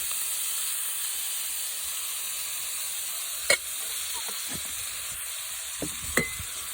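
Egg dumplings frying in pork lard give off a steady, moderately quiet sizzle and hiss, with a few brief clicks and scrapes from stirring.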